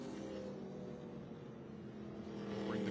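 ARCA Menards Series West race cars roll slowly around Irwindale Event Center under a caution flag, a steady low engine drone at moderate distance with a slight swell near the end.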